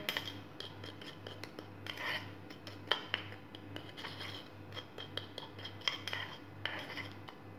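A homemade face scrub mixture being stirred in a bowl, with quick scraping, clinking and rubbing strokes in an uneven rhythm, close and fairly quiet over a steady low hum.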